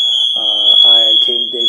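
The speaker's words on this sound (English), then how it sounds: "That is the alarm going off" A steady high-pitched alarm tone rings loud and continuous throughout, with someone talking over it the whole time.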